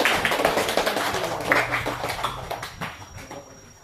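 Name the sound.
class applauding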